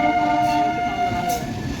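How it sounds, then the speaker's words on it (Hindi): The Amrit Bharat Express pulls slowly out of Anand Vihar station, with a loud, steady rumble of rolling coaches and a sustained tonal horn-like drone. "फाइनली आज अमृत भारत एक्सप्रेस आनंद विहार से डिपार्चर हो गई है"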